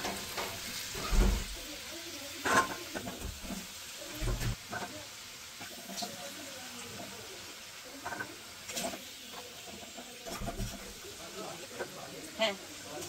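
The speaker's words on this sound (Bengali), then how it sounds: "আলু কিন্তু লাল করে ভাজা হয়ে গেছে" Potatoes frying in oil in a pan, a soft, continuous sizzle kept low in the background, with a voice talking intermittently over it and occasional clatter from stirring.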